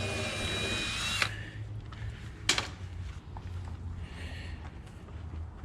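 A power drill whirs briefly while drilling the ends of siding boards on a house build, followed by a sharp knock and quieter tool handling nearby.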